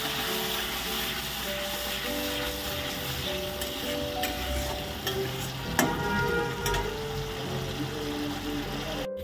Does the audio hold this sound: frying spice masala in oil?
yes